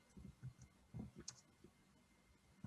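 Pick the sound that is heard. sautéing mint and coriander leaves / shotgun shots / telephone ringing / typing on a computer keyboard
typing on a computer keyboard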